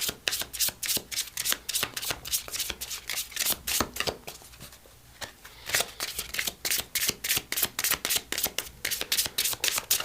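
Metatron Oracle cards being shuffled by hand, a steady run of crisp riffling slaps and flutters with one short pause in the middle, close and clear with no talking.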